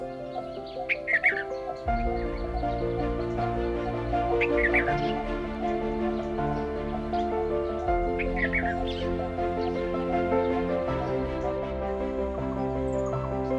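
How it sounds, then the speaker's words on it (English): Blue-throated barbets call repeatedly on a fig tree in Corbett National Park, over a dense, steady chorus of tonal hooting notes, with sharp chirps rising in bursts every few seconds. "The first birds to arrive were the blue-throated barbets."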